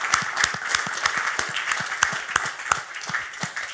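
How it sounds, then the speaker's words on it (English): Audience applause at a live investing event, a steady burst of many hands clapping close and loud, alone without talk. "the biggest round of applause, please, for Paul Hall in the back there"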